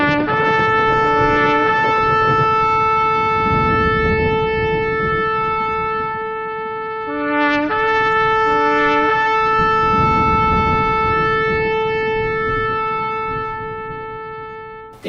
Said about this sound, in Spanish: es un sonido claro extendido como de trompeta